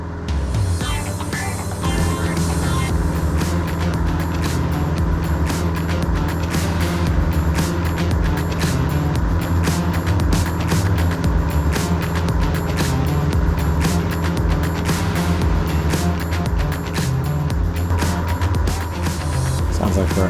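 A small single-engine airplane on a solo flight climbs toward pattern altitude, its engine droning loudly and continuously with a steady harmonic tone under cockpit wind noise.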